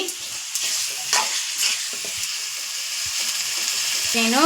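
Steady sizzling of chicken frying in a pan until its water cooks off, with occasional stirring scrapes and a brief rising tone near the end.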